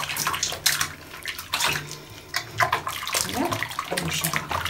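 Running water splashes and pours as a pixiebob kitten is rinsed during a bath, close and uneven in bursts, with a brief spoken word from a person.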